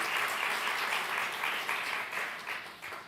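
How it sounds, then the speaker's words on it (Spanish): Audience applause fills a church service at Nuestra Casa, a dense, steady wash of clapping from many hands that holds loud throughout and eases slightly toward the end. "Me le dan un aplauso a Javo, por favor."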